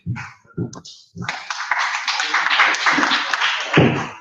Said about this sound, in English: So if we can give a round of applause for Richard.